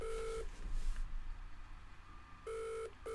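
A phone dials for the phone-a-friend lifeline in the Who Wants To Be A Millionaire video game: a steady electronic tone sounds at the start, then there is a short pause, then the tone comes back with a quick beep at the end.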